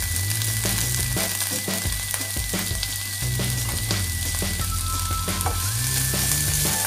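Chopped onion, carrot and other vegetables sizzle steadily in a hot pan and are lightly stirred, with soft scraping strokes heard over the continuous frying hiss.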